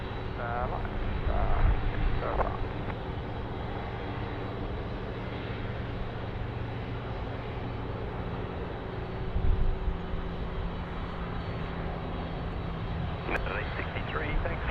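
An airliner takes off from runway 16 right at Sydney Airport, its engines a steady, broad roar that holds throughout with a couple of louder swells, under faint radio voices.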